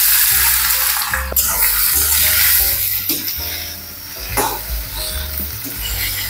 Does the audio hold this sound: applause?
no